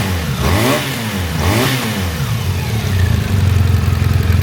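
A 2018 BMW R 1200 GS TE motorcycle with 29K miles runs in cold weather, its engine loud and close, idling with a couple of brief revs that swell and settle.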